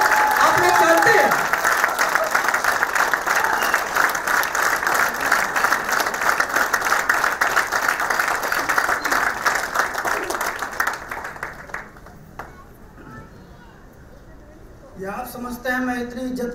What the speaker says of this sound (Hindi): Please welcome on the stage mister Chandramani जी, जोरदार तालियों के साथ।